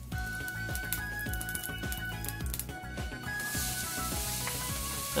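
Chicken skin fries in oil in a pan, a soft continuous sizzle and crackle with regular low thumping underneath, the hiss swelling brighter toward the end.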